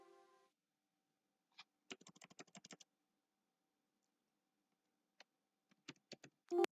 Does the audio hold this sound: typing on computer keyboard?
yes